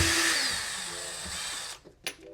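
A power drill whirs steadily as it backs a Phillips screw out of trim during carpet removal, its pitch dropping as it winds down, then a couple of short clicks or bursts follow.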